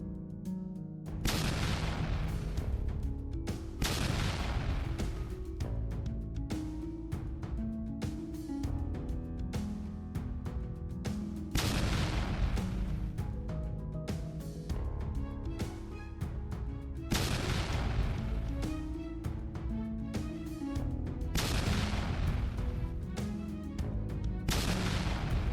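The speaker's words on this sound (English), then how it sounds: "The explosions disrupted the position and forced surviving soldiers to flee" Repeated deep booms and blasts from FPV drone strikes on a military position rumble over a sustained low roar, several heavy detonations spaced a few seconds apart, loud and continuous.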